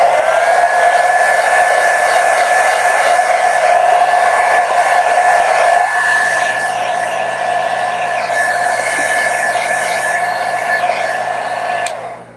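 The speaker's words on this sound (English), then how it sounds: "If you have a blow dryer or if you have a heat gun," A blow dryer or heat gun drying a wet watercolor painting of a cantaloupe melon blows in a loud, steady whine with an even airy rush close to the microphone, shifting slightly in tone midway and cutting off at the end.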